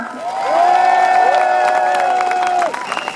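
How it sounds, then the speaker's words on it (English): A crowd at an anti-austerity rally in Manchester applauds and cheers loudly, with whoops and shouts over continuous clapping that fades near the end. "Big round of applause for Linda."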